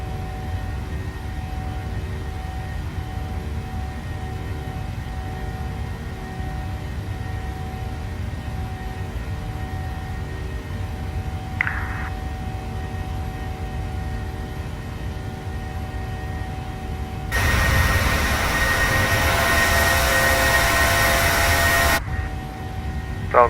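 Jet engines on a PMDG 737-700 in Microsoft Flight Simulator give a steady whining drone with tonal hums over a low rumble, then a louder broadband rush swells for several seconds near the end.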